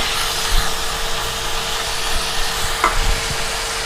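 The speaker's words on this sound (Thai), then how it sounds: "ตอนนี้จะผัดแห้งๆ นะคะ" Bacon and mushrooms are dry stir-fried in a pan, a continuous close sizzle with occasional scraping stirs of the spatula and no talking.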